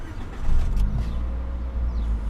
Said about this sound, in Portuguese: Só ligar o motor para vocês verem